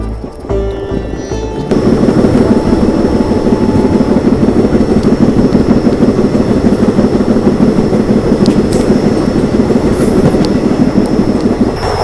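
Goa Express passenger train rounding a curve after leaving Ahmednagar, heard from inside a rear coach: a loud, steady rumble of wheels and rails with faint clickety-clack and occasional high wheel squeal, continuous throughout.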